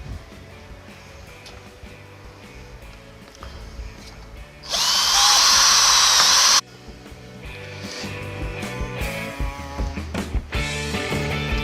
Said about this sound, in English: I have to drill my own hole first